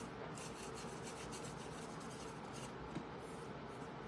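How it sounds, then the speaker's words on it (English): A roughly cut wooden scrap handle is sanded by hand, giving a continuous, even rasping rub with a soft, close and steady texture and no talking. "Now I'm seeing that this one was roughly cut. So I'm gonna sand it a little bit."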